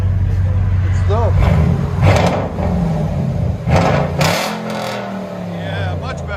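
Ford F-150 SVT Raptor with the 6.2 L V8 and a Flowmaster Super 10 exhaust, loud close revs with deep rumbling surges and a lumpy idle between them, while people talk over it.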